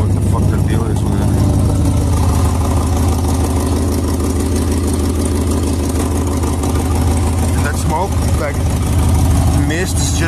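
An old engine idles while warming up at a hot rod farm, burning off old residue, as a loud, continuous, rough rumble up close, with a faint voice breaking in near the end.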